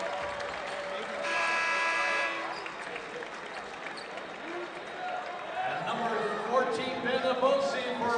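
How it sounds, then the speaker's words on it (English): A buzzer sounds, then a crowd claps and cheers steadily under the din of a busy college basketball arena, with a commentator talking over it. "And Malik Thomas gets a nice hand"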